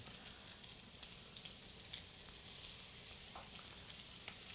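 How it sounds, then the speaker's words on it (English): Smashed potatoes frying in a pan, a quiet steady sizzle with occasional pops and crackles. "we're pan frying these"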